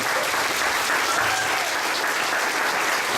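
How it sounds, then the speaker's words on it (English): An audience at an interfaith meeting claps together in a sustained, dense burst of applause that stays even and strong throughout. "Let's give them a round of applause for doing that."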